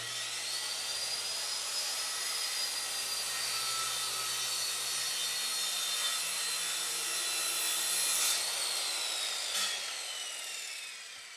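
A circular saw runs a long cut through an oak veneer board along a clamped edge guide, a steady whining buzz with a faint pitch drift across eleven seconds, ending with a couple of brief clicks as the cut finishes; no talk.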